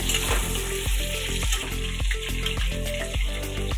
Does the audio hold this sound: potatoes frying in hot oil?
yes